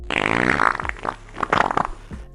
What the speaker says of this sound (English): But then when you're getting farting sounds,